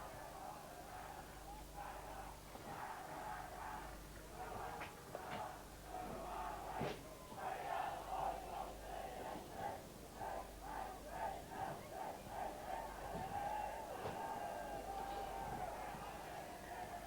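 A local suburban football crowd at a 1992 division two grand final, Cheltenham against Highett Districts, cheers and chants in a steady, rhythmic roar heard from a distance, with a commentator talking over it.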